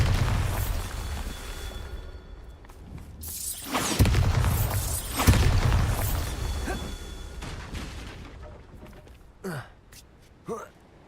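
Bombarda spell blasts in Hogwarts Legacy: several booming explosions with crackling debris, loud and close, followed by quieter magical whooshes and small pops near the end.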